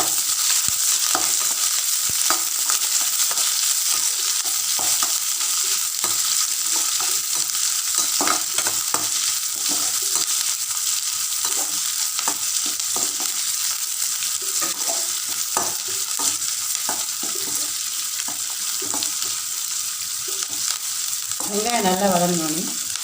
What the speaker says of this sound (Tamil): வெங்காயம் நல்லா வதங்கினோன்னே